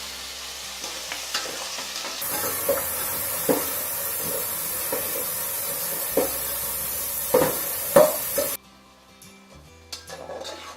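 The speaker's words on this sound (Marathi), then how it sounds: "आता यामध्ये आपण हे टोमॅटो टाकायचे आहे." Tomatoes and green chili hit fried onions in a pan for prawn biryani, a loud sizzling hiss with repeated scraping stirs, then the sizzle drops away near the end.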